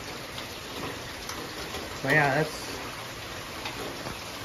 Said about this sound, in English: it is still raining and it's still flowing